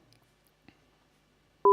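A VoIP phone call's connecting tone cuts in abruptly near the end as a loud, steady electronic tone after near silence.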